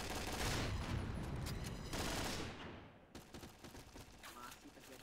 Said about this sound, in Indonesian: Masih terjadi spam tembakan di mana-mana, bung.